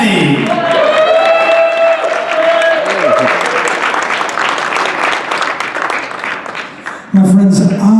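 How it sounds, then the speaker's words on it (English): A crowd applauds and cheers at an awards ceremony for a hall of fame, loud dense clapping with whoops and music tones, cut off near the end as a voice begins talking. "would you please give a big round of applause to Sean Big Daddy."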